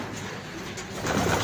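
Pigeons cooing in a loft on a windy, stormy day, soft low coos under a constant broadband wind rush that grows louder toward the end.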